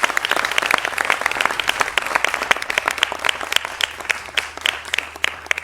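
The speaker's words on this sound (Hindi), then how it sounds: "जोरदार तालियों से स्वागत कीजिए" A studio audience that includes rows of Vedic students claps loudly to welcome the guest Dhirendra Krishna Shastri of Bageshwar Dham. The sharp, dense clapping keeps up steadily for several seconds.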